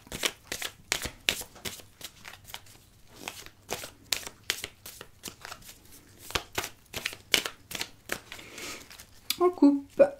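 Oracle cards are shuffled close by in a quick, steady run of crisp riffling slaps that repeats for several seconds, with a brief clatter near the end.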